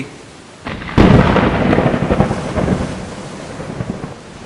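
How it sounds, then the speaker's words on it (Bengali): Loud thunder in a Bengali cartoon storm scene: a sharp crack breaks out and settles into a long rolling rumble over steady rain, with no voices. "কি বাজ পড়ছে জোরে জোরে"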